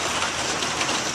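Steady rain pours down in California, a dense continuous hiss of drops hitting a roof and surfaces, loud and close with no talking.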